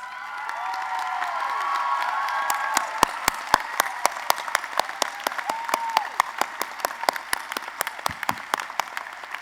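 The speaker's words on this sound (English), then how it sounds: "Please join me again in another round of applause" Commencement audience at a college of social work ceremony applauding, dense clapping that swells and then thins into scattered individual claps near the end.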